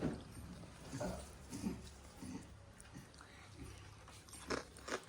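Close chewing of food, likely crunchy homemade snacks, with irregular soft crunches and bites spread over several seconds, faint breathing and a little background noise.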